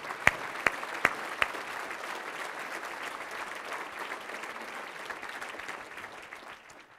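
Steady applause from a room of people at a city's State of the City address, with a few sharp claps standing out near the start, gradually thinning out toward the end.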